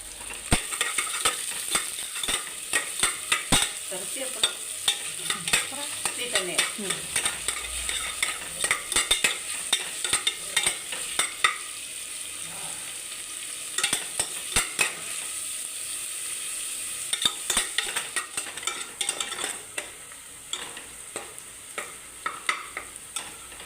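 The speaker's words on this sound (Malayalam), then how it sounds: "സവോള നന്നായിട്ട് വഴണ്ട് വന്നിട്ടുണ്ട്" Onions sautéing in a pan for chicken biryani give a steady close sizzle, with repeated scraping stirs and spoon clinks on the pan throughout.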